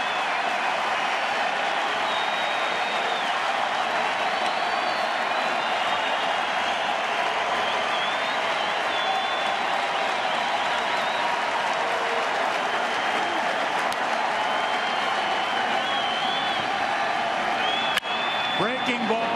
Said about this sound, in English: Now the crowd is back as the Rangers have tied it and look to regain the lead.